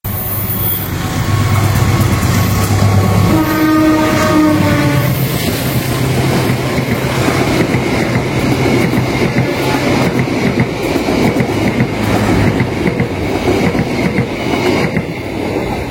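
The Batu Raden Express from Bandung to Purwokerto passes through Gandrung Mangun station, sounding a loud horn before a steady, close rumble and clatter of wheels on the rails.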